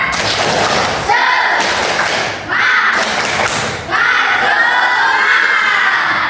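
A class of children in a classroom chant loudly in rhythm, with bursts of clapping and thumps between shouted phrases, energetic and close.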